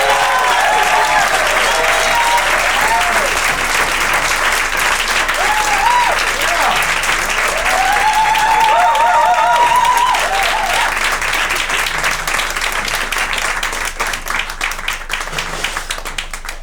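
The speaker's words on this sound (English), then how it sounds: "put your hands together. Make lots of noise for Nia Calloway." A large crowd applauds loudly and steadily, with cheers and whoops rising above the clapping throughout, easing slightly near the end.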